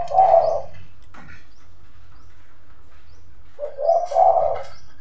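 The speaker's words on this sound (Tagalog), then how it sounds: "Pasensya na kayo sa ating background mga kahani, yung ibon." A pigeon or dove coos nearby in a quiet rural village setting, giving two soft, low cooing phrases separated by a pause of about three seconds, with no talking.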